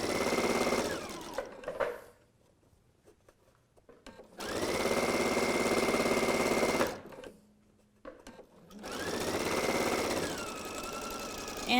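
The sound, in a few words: sewing machine sewing a French seam at 1/4 inch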